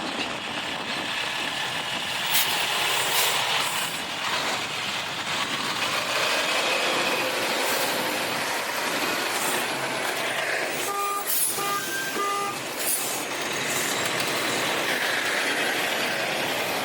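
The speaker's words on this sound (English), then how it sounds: "That was a Kodiak truck hauling fracking sand in the middle of the Permian" Kodiak autonomous truck hauling fracking sand in the Permian Basin oilfield, running with no driver: a steady, loud engine and road roar throughout, with brief horn-like tonal toots near the end.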